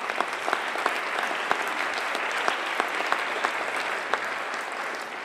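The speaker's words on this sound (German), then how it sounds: "Applaus." Audience applause at a Green party council candidacy speech, steady dense clapping from a large crowd filling the whole stretch at even level, with a few sharper individual claps standing out.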